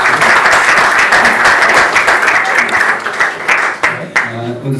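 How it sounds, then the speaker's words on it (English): Loud, steady applause from an audience at a literary magazine launch event, many hands clapping continuously before tapering off near the end, with a brief voice underneath. "Yes, you may give the Mayor a round of applause in her absence."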